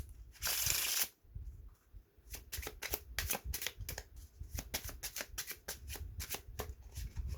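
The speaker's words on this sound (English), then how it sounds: "I'm gonna try to shuffle it." A deck of playing cards being shuffled by hand: one long riffle burst near the start, then a fast run of crisp, repeated card snaps and flicks, close and fairly quiet, with no talking.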